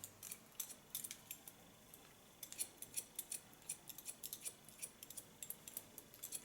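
Scissors snip steadily through thick hair during a pixie haircut, a quick run of crisp, close metallic cuts with short gaps, quiet and alone with no talking.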